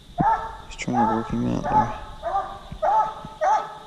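A Walker coonhound bays on a quick strike while set loose during running season for coon hunting, giving a string of loud, repeated barks with someone talking over them.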